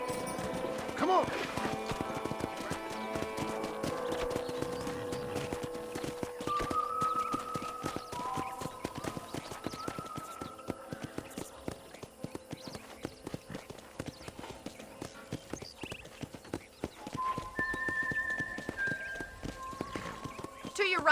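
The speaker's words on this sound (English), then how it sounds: "let's see if you can still ride a horse." A horse gallops with a rapid, continuous clip-clop of hooves in Red Dead Redemption, neighing now and then, while music and occasional voices play throughout.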